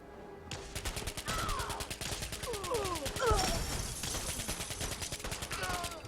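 Gorgon LMG hip-fired in Fallout 4, a rapid, steady stream of close machine-gun shots rattling for several seconds with whizzing effects in between and no voices.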